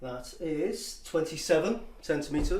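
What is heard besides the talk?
No everyday noises stand out.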